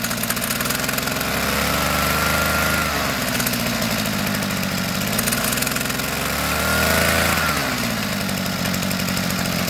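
A small engine on a chain-drive machine revs under throttle as its clutch engages the drive sprocket and chain, a steady close mechanical drone that rises and dips in pitch twice, with no talking.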